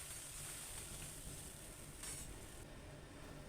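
Potatoes fried with green chilli and salt hiss faintly after water goes into the pan, making a low, even sizzle that holds steady throughout with nothing else on top.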